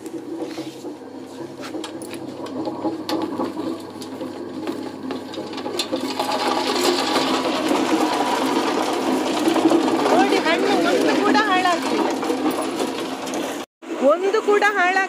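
A pepper thresher machine separates black pepper with a continuous mechanical whirring and rattling that runs steadily at close range, with people talking over it and a brief cut-out near the end.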